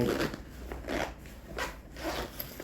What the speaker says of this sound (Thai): ซิปด้านใน